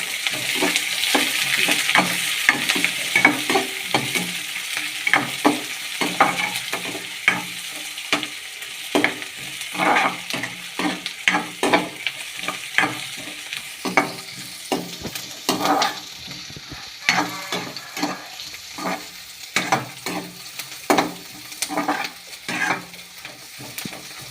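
Mustard seeds and green chillies splutter in hot oil in a frying pan for potato kurma, making a dense, crackling sizzle with rapid irregular pops and stirring scrapes up close throughout, with no voices.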